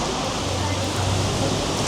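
Heavy rain falling at night near Tokyo Tower in Tokyo, a dense steady hiss of downpour filling the short stretch with no break, close and loud.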